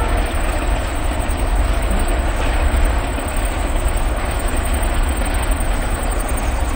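A long freight train hauled by three locomotives rumbles steadily past close by, a continuous heavy roar of rolling wagons with faint clattering wheels throughout.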